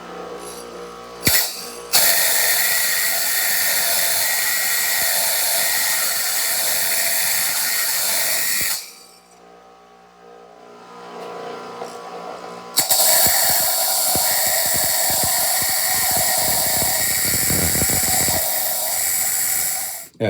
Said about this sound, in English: So first I'm going to dress the small wheel.